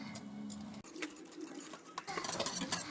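A spoon stirring apple liqueur as it heats in a pot over a flame, giving soft scraping and light clinks against the pot, close and fairly quiet, with no talk.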